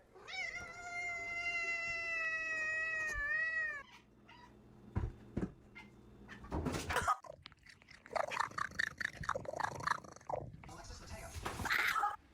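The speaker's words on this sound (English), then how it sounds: "This cat sounds exactly like a squeaky toy." A cat gives a long, high, squeaky sustained meow up close, followed by a stretch of quieter purring, rustling and shorter chirpy cat cries and scuffling noises.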